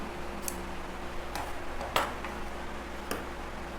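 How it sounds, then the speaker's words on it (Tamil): Scissors trimming the uneven edge of a folded blouse cross piece, giving a few faint, sparse metallic snips spaced apart over a quiet background. "மடக்கிட்டு அந்த மாதிரி ஈவனாக இல்லாததை கட் பண்ணிக்கலாம்"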